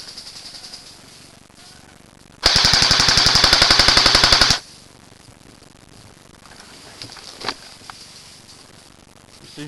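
Airsoft guns firing a rapid full-auto burst during an outdoor skirmish at EAG Worthing, a loud two-second stream of evenly spaced shots, followed by quieter rustling and a couple of faint distant pops.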